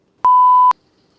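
A single loud, clean answering machine beep follows a greeting message, a steady tone lasting about half a second with abrupt start and stop, then quiet.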